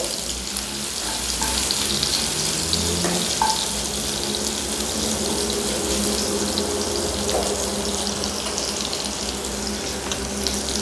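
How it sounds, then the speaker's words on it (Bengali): Crushed garlic fries in a pan for a chicken dish, giving a continuous close sizzling hiss that stays fairly even throughout, with a few faint clinks. "রসুনটা ভালো করে ভাজা ভাজা হবে।"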